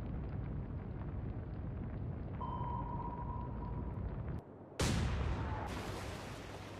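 Heavy naval guns fire aboard a Renown battlecruiser during a naval battle game, a single loud blast that cuts in abruptly over a low rumbling background and then rings out for a couple of seconds.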